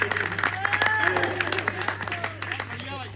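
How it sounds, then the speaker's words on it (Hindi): Audience applause at a Hindi comic parody poetry recital in Barabanki, Uttar Pradesh, a dense wash of clapping that runs the whole stretch with a voice talking loudly over it. "एक बार ताली बजा दो साहब, बहुत मजेदार"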